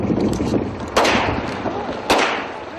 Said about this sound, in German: Plötzlich fallen Schüsse.